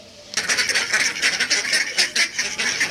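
A flock of pet ducks clamoring for food, kept alongside chicks and an eagle fed on liver, a loud continuous chorus of overlapping honking quacks close by, starting abruptly and carrying on without pause.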